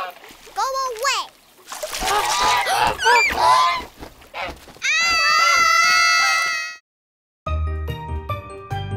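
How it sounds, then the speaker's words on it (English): A greedy goose in a children's cartoon scene honks repeatedly amid lively animated character voices and a splash, followed by a bright musical sting and short jingly tune. "Bing, that's not a duck. That's a goose."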